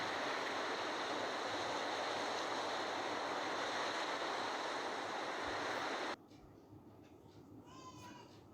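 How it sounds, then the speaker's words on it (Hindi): Water rushes in a loud, steady stream, then cuts off suddenly, leaving a quieter background where a cat meows faintly. "पानी की आवाज़ कल कल कल आती है।"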